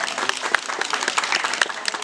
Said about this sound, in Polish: Brawa dla Pana Adama,